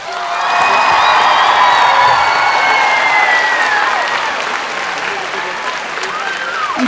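Loud applause and cheering from a crowd at the gala finale concert of a youth scouting culture festival, with whoops and shouts rising over steady clapping, then easing slightly.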